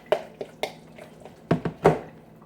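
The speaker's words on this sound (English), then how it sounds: "Mix all them wet," A utensil works through wet, gooey tuna salad ingredients in a bowl, making irregular squelching clicks and soft clanks close by, with quiet pauses between strokes.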